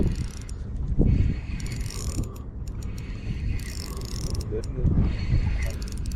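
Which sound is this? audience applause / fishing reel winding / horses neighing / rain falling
fishing reel winding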